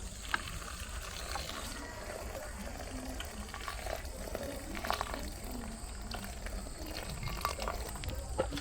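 Hot water poured onto blue pea flour gives a steady, low bubbling and hissing wash with faint trickles and pops, close and continuous at moderate level.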